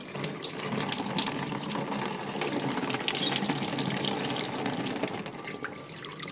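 Beef marrow rinsed under a running kitchen tap, a steady continuous splash and trickle of water that holds at an even level throughout, with no voices.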